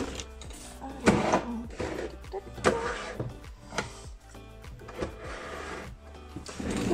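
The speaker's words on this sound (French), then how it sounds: "Hop, dans ma machine à tag." A strip of scrapbooking paper fed through a tag machine gives a few short mechanical clunks and whirs at an even pace, with quiet handling noise in between.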